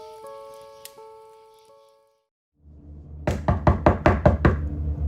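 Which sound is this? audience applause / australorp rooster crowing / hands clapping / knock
knock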